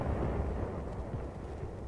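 A 4.2-inch heavy mortar barrage in the Korean War, a dense low rumble of distant blasts running steadily and moderately loud with no distinct pauses, no talk.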